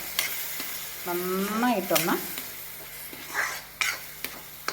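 Tomato puree stirred and sautéed in a pan for a green peas paneer curry: a close, bubbling sizzle with a spoon scraping and clinking against the pan, and a voice talking over part of it.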